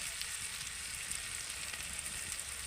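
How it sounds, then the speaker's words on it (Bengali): Tomatoes and okra frying in a pan for a vegetarian bhindi masala curry, a steady dense sizzle with faint stirring, close and even throughout without talk. "এবার আমি ভালো করে একটু কষিয়ে নেব টমেটোটা কিন্তু হালকা গলে গেছে"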